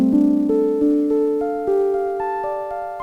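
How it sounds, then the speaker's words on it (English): A Baldwin Fun Machine organ plays its Vibraharp preset, a loud, distorted, sustained organ tone stepping upward through a series of held notes with a faint wavering pulse. "here is the Vibraharp"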